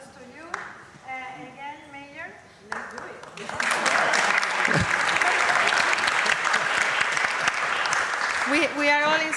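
Audience applause at a mayors and elected officials roundtable on sustainable urban proximities: voices and a short cheer at first, then a steady, loud wash of clapping that swells and fills the room to the end.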